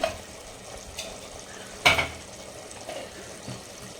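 A spoon stirs mutton biryani of basmati rice after ghee goes in, with soft scraping and a light sizzle close by and one sharper clatter against the pot partway through.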